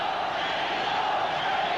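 A boxing arena crowd cheers on Lupe Pintor during his fight with Seung Hoon Lee, a steady, distant roar of many voices lasting the whole moment.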